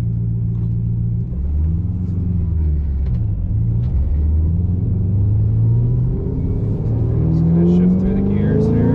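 A deep, steady V8 engine rumble from inside a 2007 Shelby GT500 Mustang, pitch rising slowly as it pulls in first gear, moderately loud and continuous.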